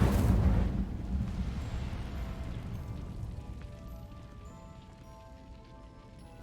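A fiery burst from the Incendio spell in Hogwarts Legacy, a loud whooshing blast at the start that decays into a crackling, fading roar over several seconds.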